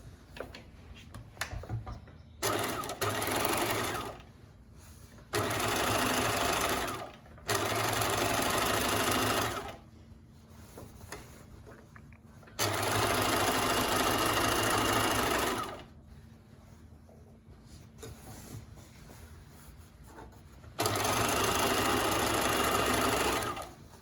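A sewing machine stitches a French seam on scrub fabric, running in five loud steady bursts of rapid whirring separated by quiet pauses, with no talk over it.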